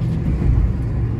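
A Hyundai Grand i10 Nios accelerates in second gear, its engine a loud, steady low rumble from inside the cabin with no talk over it.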